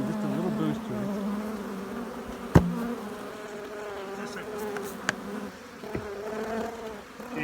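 Honey bees buzz steadily inside a small nuc hive, a close, dense drone with a few sharp clicks and knocks from the hive box.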